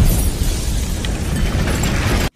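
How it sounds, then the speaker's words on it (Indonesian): A house blows apart in a gas explosion, a loud, sustained roaring blast that fills the whole clip and then cuts off abruptly into silence. "rumah tersebut akhirnya meledak"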